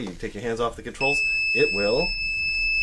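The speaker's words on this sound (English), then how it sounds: "That's my alarm." A steady high-pitched electronic alarm beeps continuously in a room, starting abruptly and sounding over a man's speech.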